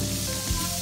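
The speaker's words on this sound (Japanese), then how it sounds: "ジュージューしてる" A hamburger patty sizzling on a hot pan at a campsite, a continuous close, loud frying hiss with a brief pop partway through.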